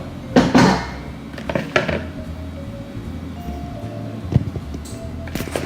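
A bowl clinks and knocks against a kitchen counter as it is set down to hold bananas, with several sharp contacts near the start and a few lighter taps and rattles of dishes afterward.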